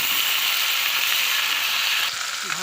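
Pickle spices with turmeric, dried red chillies and bay leaves frying in a pan, a continuous loud sizzling hiss that eases slightly near the end, with no voices.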